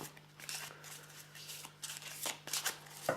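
Tarot cards being shuffled by hand in short riffling bursts with brief pauses, close and fairly quiet, under a faint steady hum, with no talking.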